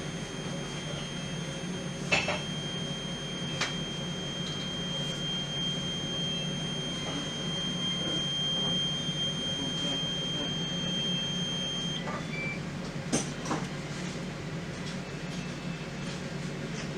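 A smoke detector head sounds its test alarm as a steady high-pitched electronic tone that runs for most of the stretch and then cuts off, over a constant low equipment hum with a few faint clicks.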